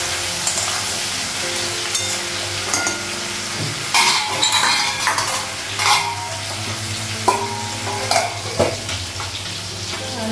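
Fish sizzles in hot oil in a pan with ginger paste, a constant loud frying hiss broken by clinks and scrapes of stirring.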